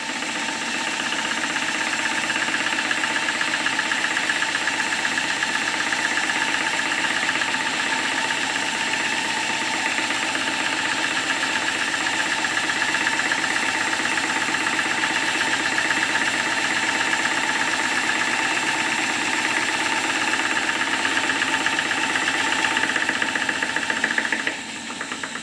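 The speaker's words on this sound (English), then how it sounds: "I thought I would just run the engine" A small model steam engine runs continuously on a kitchen table with a steady, fast knocking chuff and mechanical hum, unchanging for the whole stretch, with no talking.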